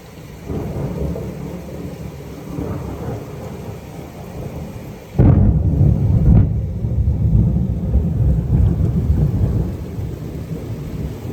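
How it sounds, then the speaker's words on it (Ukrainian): Steady rain pours down in the mountains, then a loud, close crack of thunder breaks out and rumbles on beneath the continuing downpour. "Гроза, грім блискавка."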